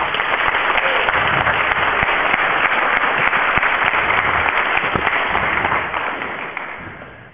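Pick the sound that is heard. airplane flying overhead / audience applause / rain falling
audience applause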